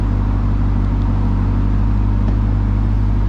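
The power liftgate of a 2021 Dodge Durango SRT Hellcat runs with a loud, steady low motor hum for a few seconds, close up and with no talking.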